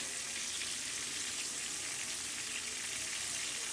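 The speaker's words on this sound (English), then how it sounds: "Nothing better than fried backstrap." Steady, close sizzling of venison backstrap frying in a hot pan, a continuous crackling hiss with no pauses.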